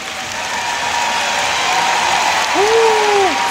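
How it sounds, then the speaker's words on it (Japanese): Arena crowd at Yoyogi National Gymnasium applauding and cheering after an Evgeny Plushenko figure skating performance, a loud continuous roar of clapping with a commentator's voice heard over it. "今日一番の歓声が上がりましたか。"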